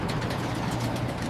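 Monster truck engine in a 3D animated kids' cartoon, a low rumbling idle with a steady pulsing throb, close and loud, with no talking over it.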